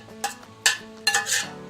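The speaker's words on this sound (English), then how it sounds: "sorry about the scraping" A utensil scrapes a pan of butter and onions on the stove in three or four short, close scraping strokes over a low background hum.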